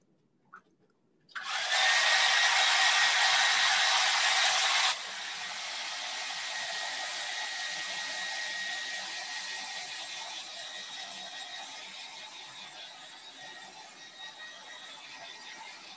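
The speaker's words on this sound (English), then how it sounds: "So I'm going to head and blow dry this just a second." A hair dryer blows on a freshly painted holiday ornament to dry it before stenciling, switching on loudly near the mic with a steady broadband whoosh that drops to a slightly quieter, sustained rush after a few seconds.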